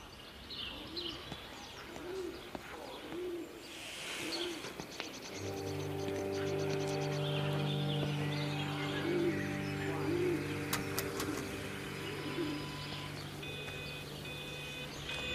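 Birds cooing in the video game Everybody's Gone to the Rapture, a run of soft, repeated coos that fades under rising sustained music and ambient tones.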